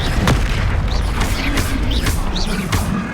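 Repeated explosive booms from the Confringo fire spell in Hogwarts Legacy, several heavy blasts in quick succession, loud and close amid continuous combat noise.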